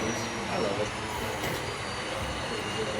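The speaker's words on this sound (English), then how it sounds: "These are all just model trains," Model trains run on a large layout at a model railroad museum, a faint steady rolling rumble with light wheel squeal and clicking, heard against the hum of an indoor room.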